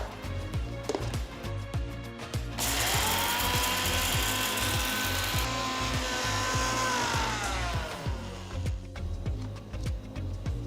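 A mixer grinder whirs loudly as it grinds roasted masala spices with asafoetida for a tamarind curry, starting with short pulsed bursts, then running steadily for several seconds before slowing into more pulses.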